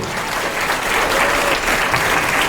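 Audience applauding for the mayor at a talk show event, a dense, steady wash of clapping from a crowd, loud and sustained with no speech over it.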